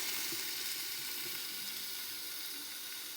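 Soaked, squeezed soybeans fry in a pan with a steady, close hissing sizzle that holds evenly throughout, with faint crackles in the mix.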